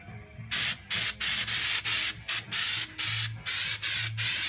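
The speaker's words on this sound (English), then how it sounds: "So you don't have to spray it on there real neat." Repeated short bursts of aerosol spray hissing as coating is sprayed from a can onto a car's inner fender wells, about ten quick sprays in an even rhythm, close and loud, with brief pauses between.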